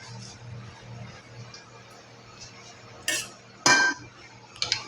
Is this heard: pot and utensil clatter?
yes